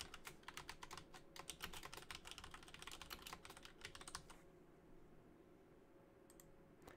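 A class name is typed on a computer keyboard in a quick, close run of light clicking keystrokes lasting about four seconds, then the keys stop and only faint room hiss and a couple of soft clicks remain.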